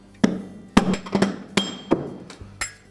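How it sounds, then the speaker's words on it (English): Sharp metallic hammer blows knocking out a bearing in an LG washing machine strike about six times at uneven intervals, each ringing briefly before the next, close and clear with no talking. "we're going to give it a rap with our hammer"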